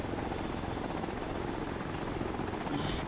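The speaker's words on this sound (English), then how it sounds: "In the heli, fly to me quick." A helicopter in the Arma Exile game flies nearby, its steady rotor thrum droning continuously at a moderate level with no talk.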